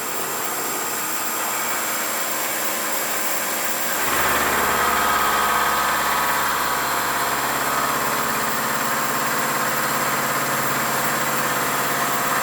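An Acra CNC knee mill cutting an aluminium bracket starts up partway through, shifting from a low hum to a steady, loud whirring machining drone that carries on unbroken.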